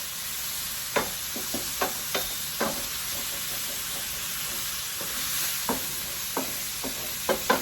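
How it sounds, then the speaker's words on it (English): Chopped onion and shallot sizzle in a frying pan as a steady, fairly loud hiss, broken by occasional soft knocks and stirring scrapes of a utensil against the pan. "I'm going to let the onion cook for about 2 minutes."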